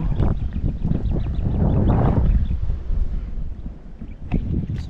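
Small engine of a crop sprayer running in a field, a continuous loud rumbling drone mixed with rough wind-like noise close to the microphone, with no talking.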